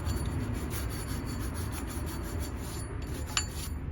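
Steady close-up rasping scrub across the rusty rear brake of a BMW E46, continuous and even throughout with one brief sharper scrape near the end.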